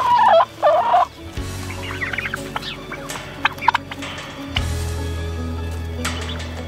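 Turkeys gobble in loud warbling bursts near at hand on a farm in Arizona, followed by scattered clucks and a steady low hum of background noise.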